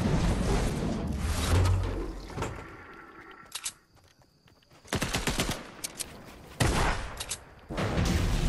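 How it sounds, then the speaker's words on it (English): Video game gunfire: dense bursts of rapid automatic shots, loud and close, with a brief lull partway before the firing resumes. "There's gunshots over to Doom's domain."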